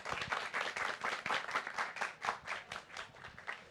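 A small audience claps to welcome two speakers at a book-fair talk, with brisk, fairly sparse hand claps at close range that continue steadily without voices.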